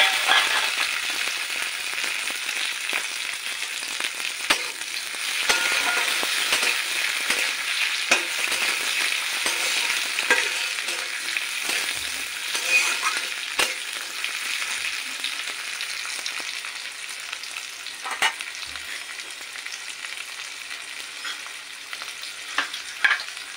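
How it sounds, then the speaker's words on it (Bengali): Chopped onion and tomato frying in a pan for a soybean curry: a continuous close crackling sizzle punctuated by frequent light scrapes and taps of a stirring spoon, steady throughout with no speech. "পেঁয়াজ কুচি দেওয়ার পর একটু ভাজা ভাজা করে নিয়ে এবার আমি টমেটোটা দিয়ে দেবো।"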